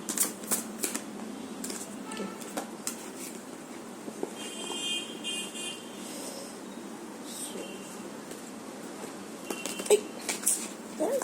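Tarot cards are riffled and shuffled in quick crisp flurries, close and fairly soft, with brief pauses and a few scattered taps between bursts.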